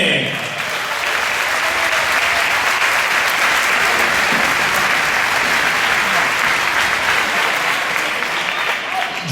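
A crowd at a charity tournament event applauds in a loud, sustained, even wash of clapping that starts almost at once and holds steady throughout, close and full.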